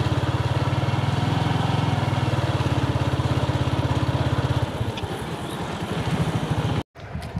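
A motorcycle runs on a rural road strewn with straw, its engine thumping in a fast even rhythm close by, then easing into a rougher, lower rumble as it moves on.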